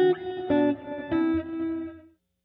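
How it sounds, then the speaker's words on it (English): Electric guitar through a Line 6 Helix sparkle delay effect, several picked notes and chords ringing out bright and clean with shimmering repeats that decay to silence near the end. "And it just has nice sparkle delay and a nice high pass roll-off"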